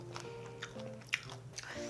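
Close-up biting and chewing of a large-shrimp pizza with yogurt sauce and a black-rice dough, crisp on the outside, with soft irregular crunches and squishy mouth sounds.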